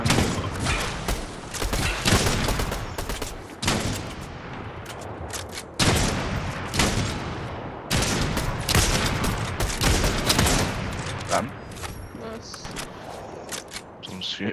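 Rapid gunfire bursts from the video game Fortnite crackle and pop almost continuously, loud and close, with sharp volleys layered over one another and players talking over the shooting.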